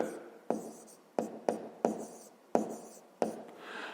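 A pen writes on paper during a fifth-grade maths exercise, giving close, scratchy strokes in a quick uneven rhythm with sharp onsets, about seven distinct scribbles in a row, with no voice over them.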